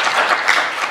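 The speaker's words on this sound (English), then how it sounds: "please give him a big round of applause to wake him up" An audience at a software conference talk claps, a dense, loud burst of applause from many hands filling the whole short moment.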